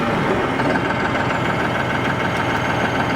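A New Holland 5620 TX Plus CRDI tractor drives in high second gear, its diesel engine giving a loud, steady, close rumbling drone with a faint high whine on top, continuous throughout and with no voices.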